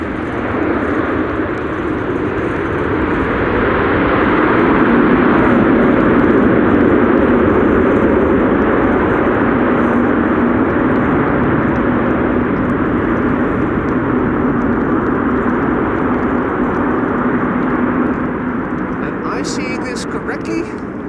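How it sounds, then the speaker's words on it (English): Airplanes landing at a windy Amsterdam Schiphol Airport, a broad continuous engine roar and rushing wind that swells and stays loud for the whole stretch, heard from some distance outdoors. "because of the lovely airplanes landing"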